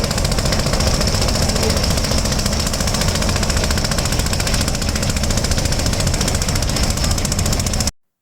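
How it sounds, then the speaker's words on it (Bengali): The engine of a small trawler boat racing toward a passenger launch on the river at Chandpur drones loud and close, a steady rapid knocking chug that runs unbroken, then cuts off abruptly at the end. "দেখুন এই ছোট্ট নৌকা ট্রলারটি কিভাবে ছুটে আসছে"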